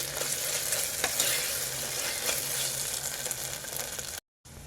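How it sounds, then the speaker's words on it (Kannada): Onion with ginger garlic paste fries in a pan for Punjabi-style dum aloo, giving a continuous close sizzle with occasional stirring scrapes and a brief dropout near the end. "ಇದು ಸಹ ಹಸಿ ವಾಸನೆ ಹೋಗೋವರೆಗೂ ಚೆನ್ನಾಗಿ ಫ್ರೈ ಆಗಬೇಕು."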